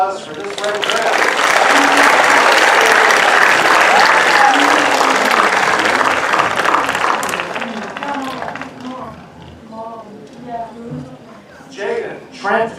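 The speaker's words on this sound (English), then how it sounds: "Ladies and gentlemen, another round of applause for this great draft." A high school commencement audience bursts into loud, sustained applause for several seconds that gradually thins to scattered claps, with a voice speaking toward the end.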